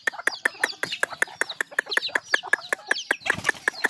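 Hill-bred wild domesticated chickens and roosters cluck in a steady run of short, sharp calls about five per second, close by and fairly loud, with other birds chirping faintly behind them.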